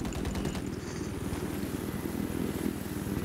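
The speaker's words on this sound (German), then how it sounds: "Das ist der scheiß Jet, ey" A jet aircraft roars overhead in Battlefield 4 on the Hainan Resort map, a loud continuous rumbling engine drone with a throbbing low pulse that fills the whole moment.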